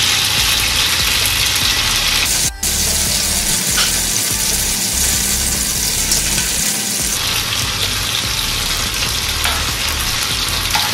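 Prawns fry in a pan over a low gas flame, giving a loud, steady, close sizzle that runs throughout with one brief dip and no voices.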